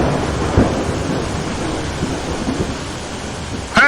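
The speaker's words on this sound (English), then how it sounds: "another net of lightning crackled completely around them" Loud crackling, rumbling lightning discharge with a thunderous storm-like roar throughout and a sharp crack near the end, nearby and sustained.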